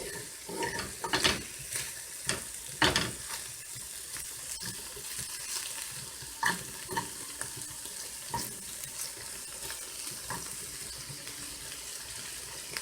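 String beans simmer in a pot with turkey necks and potatoes, a soft bubbling and sizzling bed broken by scattered clinks and stirring knocks at irregular intervals, fairly quiet and with no voices.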